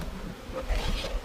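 Honeybees from a package colony buzz close by at an open hive entrance, making a soft, steady drone with a little rubbing and shuffling underneath.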